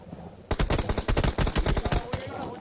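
Rapid bursts of automatic gunfire in a tactical shooter video game, an enemy spraying through smoke toward a window; loud, dense rattling shots start abruptly after a brief quiet lead-in and continue in fast irregular volleys.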